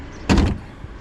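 Hood of a 2018 BMW 520i lifting on its shock absorbers, a single short broadband thud-like burst of about a quarter second, fairly close, followed by quiet.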